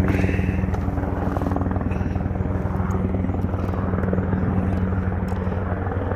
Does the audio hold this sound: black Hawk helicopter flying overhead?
yes